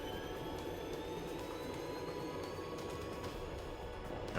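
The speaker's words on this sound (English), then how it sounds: "I can get this helicopter flying" A helicopter in the train-driving bullet-hell game Choo Choo Survivor 2 keeps up a steady, loud droning whine with a faint rising tone, unbroken for the whole stretch and with no voices over it.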